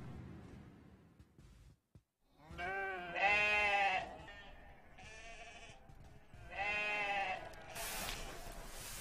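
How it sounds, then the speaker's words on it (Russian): Sheep on a large farm flock bleat in two long wavering calls a few seconds apart, fairly close and clear over quiet background rustle. "Блеяние овец служит будильником."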